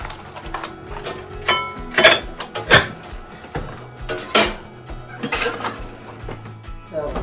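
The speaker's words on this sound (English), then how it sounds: "So I'm gonna remove the lid, place my dough on the pan, replace the lid, and put it back in the oven." A pot lid comes off and goes back on, and sourdough is set into a hot pan, making a run of close, sharp metallic clanks and knocks with softer scrapes and thuds between them.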